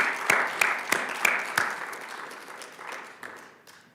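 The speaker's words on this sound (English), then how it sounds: "Please join me in a big round of applause for all of them." An audience at an MLK celebration at St. Louis Community College, Florissant Valley, applauds the honorees: a few sharp, distinct claps up front, then a thinner, scattered round of clapping that gradually fades away.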